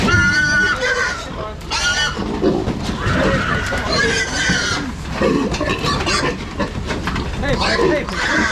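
Pigs squeal in loud, repeated bursts while hogs are loaded, mixed with clattering movement and people calling out over the noise.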